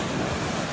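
Sea waves at Çıralı beach in Antalya, a steady broadband wash of surf with some wind, constant and fairly soft with no voices.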